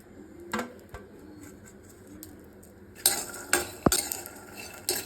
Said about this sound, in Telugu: ఇగోండి పల్లీలు వేగుతున్నాయి